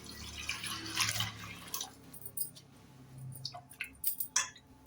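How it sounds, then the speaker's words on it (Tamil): Water is poured onto washed toor dal in a pot while cooking, heard as close splashing and trickling with drips and small clinks, alone without talk. "இதை நல்லா கழுவி எடுத்தாச்சு இப்போ தண்ணி சேர்த்துக்கலாம்"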